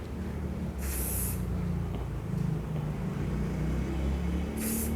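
Two short hisses of hair spray at a barber's, one early and one at the end, over a steady rumbling room background.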